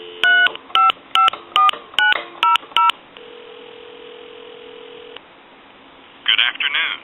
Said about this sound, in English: Give you some dial tone. And I'll go ahead and dial a time and temp number.